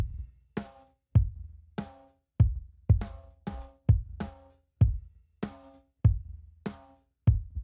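Kick drum processed in parallel with an 80 Hz EQ boost, about fifteen isolated booming hits in an uneven pattern, each with a sharp attack and short decaying low tail, played alone.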